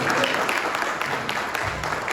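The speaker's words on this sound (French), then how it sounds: "Applaudissez dans votre famille." A church congregation claps steadily, a dense burst of applause that continues throughout without a break.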